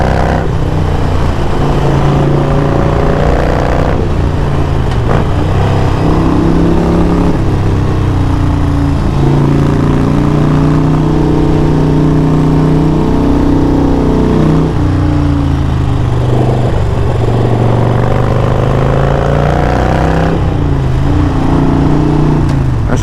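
A motorcycle engine revs loudly and close, with repeated rising and falling surges over a constant rough rumble, alone with no talk.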